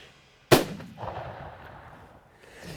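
A single sharp, loud blast from a Winchester .30-06 rifle firing 180-grain XP3 rounds at a Nebraska deer, followed by a rolling outdoor echo that fades over about two seconds.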